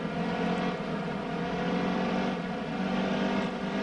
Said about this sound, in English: Engine sounds, though, improved, but definitely not sounded like a NASCAR car yet